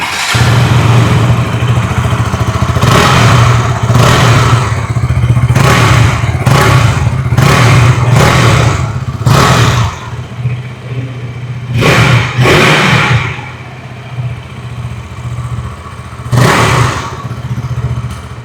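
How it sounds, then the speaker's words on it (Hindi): A 2026 KTM Duke 200 motorcycle engine idles with a low rumble, then its exhaust revs sharply in repeated bursts, with a few more throttle blips after a brief easing off. "आइए अभी सुन लेते हैं इस बाइक की एग्जॉस्ट नोट।"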